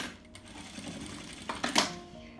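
A domestic sewing machine topstitches beside a zipper, a short busy mechanical whir with rattling and clicks, close and moderately loud, with faint room noise.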